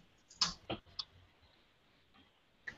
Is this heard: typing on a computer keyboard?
yes